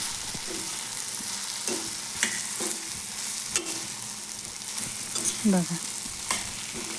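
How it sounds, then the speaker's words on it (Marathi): Soya chunk vadas stir-fry in a kadhai with a steady sizzle, while a spoon scrapes and clinks against the pan at irregular intervals. A voice speaks briefly. "सर्व प्रकारे असे वडे मी कढईत टाकून छान असं परतून घेत आहे"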